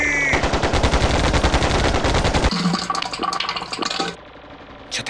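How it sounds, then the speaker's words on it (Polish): Carbine gunfire in a shootout, rapid loud bursts of shots in quick succession that thin out into scattered cracks and clatter before stopping. "No nie gadaj, że znowu się strzelają."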